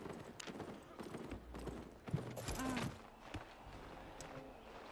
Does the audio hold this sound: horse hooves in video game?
yes